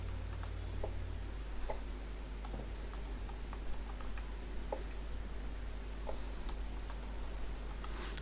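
Keys on a computer keyboard are tapped while a question paper is typed into Google Forms on a desktop or laptop: sparse, faint, irregular clicks over a steady low hum, with no talking.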